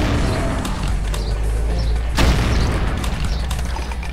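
Heavy gunshots and booming impacts in the video game Brutal Doom Eternal run in GZDoom, with a sharp loud blast midway over a rumbling low background.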